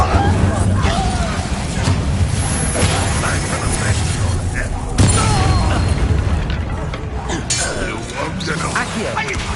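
Fiery Incendio spell blasts in Hogwarts Legacy on PS5, a continuous dense roar of booms, crackles and clinking impacts under ongoing combat, with a sharp burst near the middle and voices mixed into the din.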